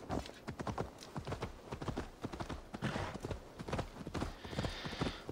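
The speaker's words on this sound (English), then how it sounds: "Call our horse." Horse hooves in Assassin's Creed Valhalla, a quick run of close clip-clop beats at a galloping rhythm, fairly quiet, with a faint whinny-like tone near the end.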